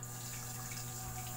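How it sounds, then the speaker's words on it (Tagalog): Water runs steadily into a soup pot during cooking, a faint continuous pouring hiss without breaks, quiet and alone. "Ayan, lagyan na natin ng tubig."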